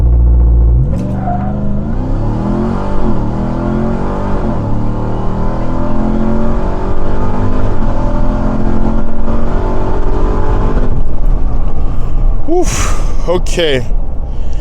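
A 2021 Ram TRX fitted with an S&B cold air intake accelerates hard, its engine roaring and rising in pitch through gear changes, loud and close from inside the cab. A brief voice reaction comes near the end.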